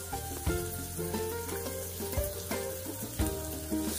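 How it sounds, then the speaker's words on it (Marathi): Finely chopped onions with curry leaves sauté in oil in a pan, giving a continuous close sizzle. Periodic soft scraping thumps come from stirring at roughly regular intervals. "छान असं परतून घ्यायचं तेलामध्ये"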